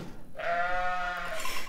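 Sheep bleating during hoof trimming, with the animal laid on its back in a semi-automatic hoof-care crate; one long, wavering bleat, close and fairly loud, with no talk.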